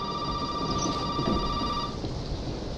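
A telephone rings in the video game Resident Evil 7, with one sustained ring of about two seconds over dense, rumbling noise like rain and thunder.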